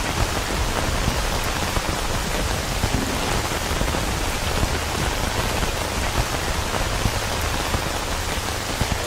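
Steady, heavy rainfall from the survival shooter game S.T.A.L.K.E.R. Anomaly hisses continuously and evenly, a dense wash of drops on surfaces with no pauses or voices.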